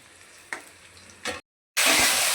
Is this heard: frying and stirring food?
yes